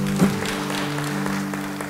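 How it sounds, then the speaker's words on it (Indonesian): Church congregation applauding during an Indonesian sermon, a steady wash of clapping with a brief louder burst near the start, heard from within the crowd. "beri tepuk tangan buat Tuhan"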